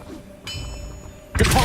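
Casting the Revelio spell in Hogwarts Legacy gives a shimmering ringing tone that swells and sustains, followed by a sudden bright whooshing burst near the end.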